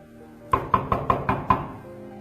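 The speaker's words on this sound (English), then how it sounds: "I stop and I collect myself. And then I knock." Six sharp knocks on a door in a quick, even sequence, close and distinct, followed by quiet.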